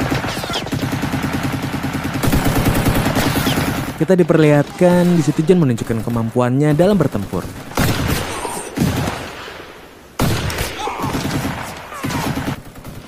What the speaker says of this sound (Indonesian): mereka juga ditembaki tentara Jerman dengan senapan mesin